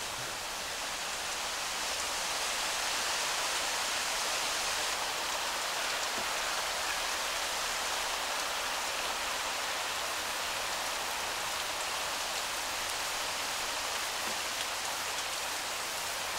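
Rain pours down in a TV drama scene about the prophet Joseph, a dense, continuous hiss of falling water that stays loud and constant from start to finish with no one speaking.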